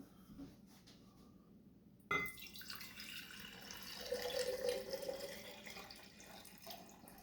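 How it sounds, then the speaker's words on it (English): Hot water running from a sink tap, a quiet hiss and splatter that starts suddenly partway through after near silence, then continues steady and soft with slight rising tone. "we're going to do hot water from the sink"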